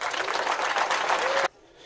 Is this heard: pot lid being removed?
no